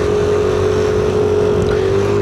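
An old, worn scooter engine drones loudly and steadily up close, a constant throaty hum with no voices over it.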